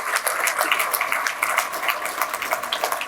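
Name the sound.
audience applause for Cameron and staff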